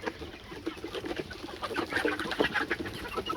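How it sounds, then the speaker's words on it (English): Grown-up chickens on a countryside farm clucking and calling continuously, several birds close by in a busy, overlapping chorus with no talking. "Here are the chickens, and they have grown up."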